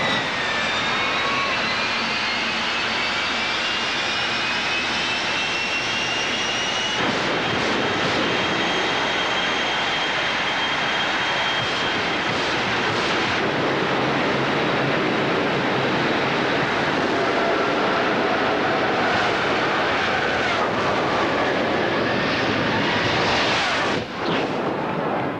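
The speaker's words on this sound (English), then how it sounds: "nothing surpasses the thunder and lightning of jet cars in action" A loud, sustained jet engine roar from jet-powered drag racing cars, with a rising whine, broad and powerful, continuing for a long stretch without talk.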